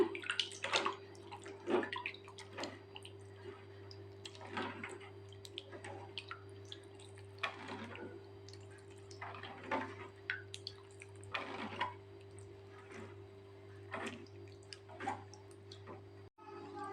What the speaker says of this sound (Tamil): இப்போ இதை நல்லா மிக்ஸ் பண்ணிக்கலாங்க